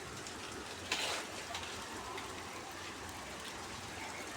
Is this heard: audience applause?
no